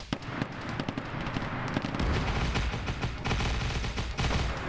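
Dense, rapid barrage of explosive booms and gunfire from artillery in a large Warhammer video game battle, continuous and loud with no clear pauses.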